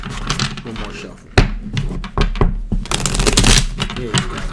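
Rapid riffling shuffles of a tarot deck, crisp and close, in a few bursts with a sharp snap partway through, under steady background sound.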